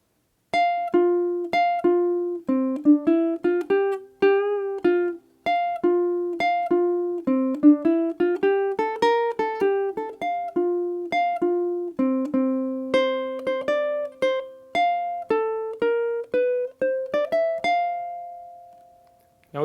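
A ukulele plays a jazz tune, crisp plucked chords and melody notes in a bouncy, syncopated rhythm with short pauses, close and clear, ending on a held chord.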